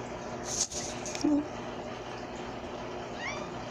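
A domestic cat meows a few times at close range, short rising calls over a quiet room with faint background noise.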